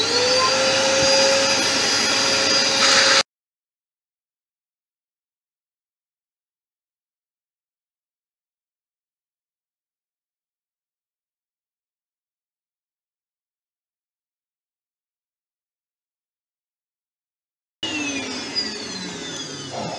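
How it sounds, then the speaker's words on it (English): Loud workshop dust extraction system running with a steady roaring whine during wood turning and sanding, cutting out to silence before starting up again. "my dust extraction system is quite loud"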